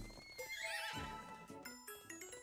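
A horse in the Miitopia video game on Switch gives a loud whinny with a rising and falling neigh, followed by a few light clip-clop hoof sounds under game music, with no talking.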